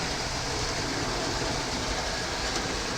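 A train sound effect rolls past as a steady, loud rumble of rail cars, with a broad continuous roar and no clear rhythm of wheel clacks, and no one speaking.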